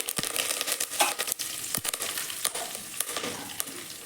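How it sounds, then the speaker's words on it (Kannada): Mustard seeds, cumin and curry leaves crackle and sizzle in hot oil for horse gram sambar, with sharp irregular pops over a steady fry hiss, close and moderately loud, no talking. "ಇವಾಗ ಒಂದು ಸ್ಪೂನ್ ಸಾಸಿವೆ ಹಾಕೋತಾ ಇದ್ದೀನಿ ಒಂದು ಸ್ಪೂನ್ ಜೀರಿಗೆ ಹಾಕೋತಾ ಇದ್ದೀನಿ ಮತ್ತೆ ಸ್ವಲ್ಪ ಕರಿಬೇವು ಹಾಕೋತಾ ಇದ್ದೀನಿ"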